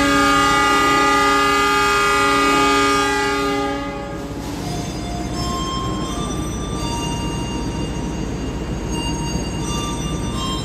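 A loud, sustained train horn blares for about four seconds as the Malabar passenger train departs the station for Malang, then gives way to the steady rumble and rattle of rail cars rolling past.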